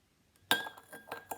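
Spoon clinking against a cup while stirring sugar into freshly brewed loose-leaf tea, a few sharp close metallic taps in irregular rhythm over a quiet background.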